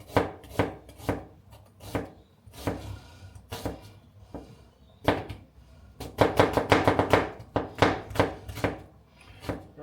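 A sharp kitchen knife chops on a board in irregular bursts of crisp, close knocks, some quick flurries and some single strikes, alone without talk, while making spaghetti bolognese.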